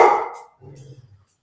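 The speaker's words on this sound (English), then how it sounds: "He said he had to bark that out" A dog gives one sharp, loud bark close by, followed by a short, softer grumbling trail.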